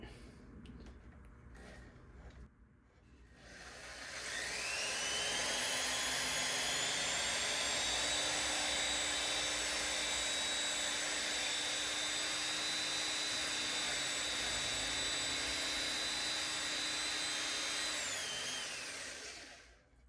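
A power drill bores through soft wood with a Forstner bit while making a bass guitar body, the motor spinning up after a few seconds of quiet into a loud, steady whining drone that holds, then winds down.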